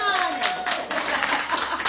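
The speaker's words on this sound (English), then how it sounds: "We could clap for that because it's a good thing." An audience applauds at a women's empowerment benefit event in 2021. The clapping is dense, loud and steady, with a voice whooping and speaking over it.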